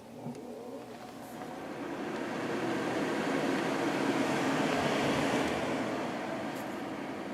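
A 1989 Fedders Climatrol 8,000 BTU window air conditioner with a Samsung fan motor starts up on high fan, its whoosh swelling over a few seconds into a steady, fairly loud rush of moving air.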